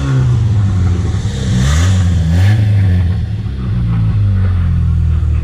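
A rebuilt BMW X3 engine runs strong and revs up and down repeatedly, its loud, steady mid-pitched drone rising and falling in pitch with each throttle blip, close and with no talking.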